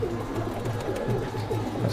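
A male Madrasi pigeon with dark eyes coos softly in low, repeated rolling murmurs. The sound is fairly close but quiet, with a faint background hum and no speech.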